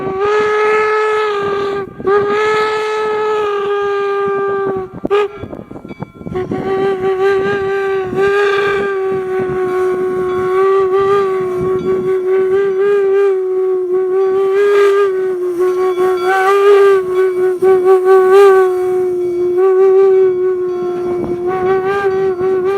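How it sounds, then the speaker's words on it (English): Steam locomotive No. 119's whistle blows loud and long, sounding in a series of sustained blasts and short toots over the chugging of a train. "119 came on through doing whistle dancing."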